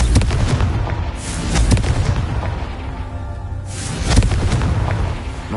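Confringo explosive curse in the video game Hogwarts Legacy: several heavy booming blasts with deep rumbling tails, loud and close, separated by short gaps.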